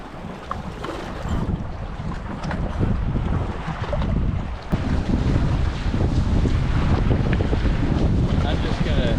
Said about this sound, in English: Kind of riding some nice swells right here.